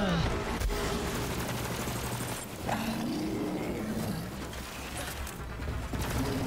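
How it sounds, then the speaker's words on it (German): A grenade is thrown during a firefight in Borderlands 3, with a dense, continuous barrage of gunfire and blasts filling the whole stretch at steady loudness. "dann werfe ich mal eine Granate"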